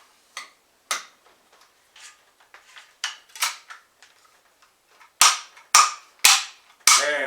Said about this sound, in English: I'll put the mag back in.